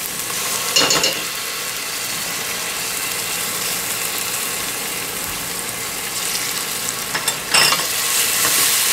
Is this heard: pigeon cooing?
no